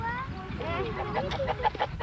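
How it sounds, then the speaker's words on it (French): A rooster being held by hand gives a few short, close clucks over a noisy background, with people talking in French around it. "J'ai pas attrapé une poule aujourd'hui, j'ai attrapé un coq."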